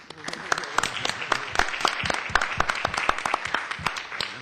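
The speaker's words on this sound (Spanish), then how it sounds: "Quisiera pedir un aplauso para nuestro presidium y muchas gracias." Audience applause for the presidium at a welcome event for authorities, a dense run of clapping hands with overlapping sharp claps, moderately loud and steady across the room.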